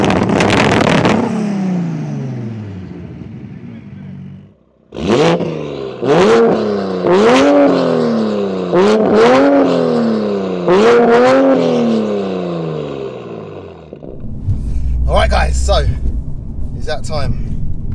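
A 900 hp MK4 Toyota Supra and a 760 hp MK5 GR Supra rev hard in a string of six or seven loud, rising blips close by, followed by a rougher burst of engine noise.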